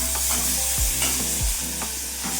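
Ginger garlic paste fries for a prawn and cucumber curry, a loud, constant sizzle with a couple of low thuds and scraping stirs of the spoon in the pan.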